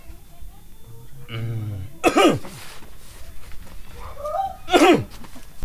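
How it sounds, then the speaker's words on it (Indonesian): Two harsh, throaty coughs burst out a few seconds apart, close and loud, between quieter tonal sounds and background murmur. "Aduh jadi batuk wae kieu ji."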